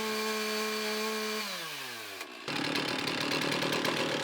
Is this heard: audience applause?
no